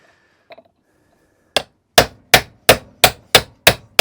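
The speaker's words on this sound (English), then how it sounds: "you can change it up to a bigger slightly hammer, one that's not quite so soft blow" Hammer tapping a roller bearing into the roller of a Kaaz LawnFlight 553 Pro lawnmower: a faint knock first, then eight loud, sharp metallic blows in a steady rhythm about a third of a second apart.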